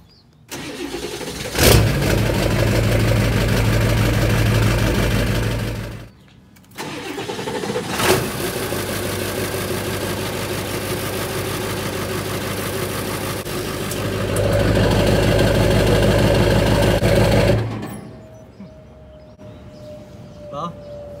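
A Ford 7.3 Powerstroke diesel truck with a 5-inch straight pipe and a makeshift silencer wired into the tailpipe, running in a loud, close, steady rumble with two brief cutouts, then stopping, with someone talking over it.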